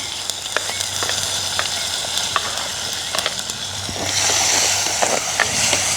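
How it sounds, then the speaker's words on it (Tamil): Onions and green chillies fry in a pan with a steady sizzle, occasional spoon scrapes and small pops, and the hiss grows louder toward the end; no one speaks. "வெங்காயம் பச்சை மிளகாய் கொஞ்சம் பதம் கட்டுப்பேன்"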